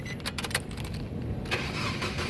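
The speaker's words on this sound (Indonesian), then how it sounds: "sekarang saya coba nyalakan mesin ya" Nissan Grand Livina 1.8 XV manual from 2007 starts up: a few short cranking bursts, then the engine catches and settles into a steady idle, heard fairly close.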